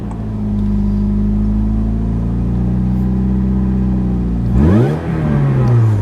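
A Mazda6 car engine idles with a steady, loud hum, then revs sharply near the end before settling back, heard up close with no talk.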